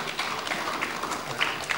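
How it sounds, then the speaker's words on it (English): A roomful of people at a youth leadership forum clap for themselves, giving a short, steady patter of applause at moderate distance with faint voices mixed in. "give yourselves an applause"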